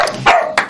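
A dog barks a few short, sharp times alone amid applause on a live French show, loud and close with brief gaps between yelps.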